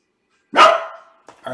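A single loud, close dog bark bursts out and trails off, followed by faint shuffling sounds.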